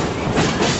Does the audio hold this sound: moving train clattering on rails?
yes